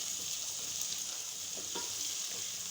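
Onions and ginger-garlic paste fry with a steady sizzle, with occasional scraping of a spoon stirring in the pan, close up and continuous.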